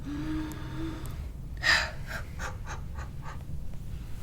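During a chiropractic adjustment beneath the shoulder blade, a person takes a sharp, audible gasping breath, followed by several short, breathy exhales and puffs against a low background hum.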